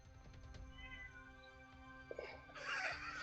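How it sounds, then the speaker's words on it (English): A cat meows once, fairly faint, at the end of a quiet stretch of room noise, a short rising call that stands alone without talk. "That was great timing there with the meow."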